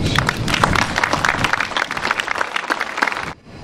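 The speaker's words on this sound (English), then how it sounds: "Give yourselves a round of applause." A crowd at an event center's grand opening applauds steadily with dense, continuous clapping that cuts off abruptly near the end.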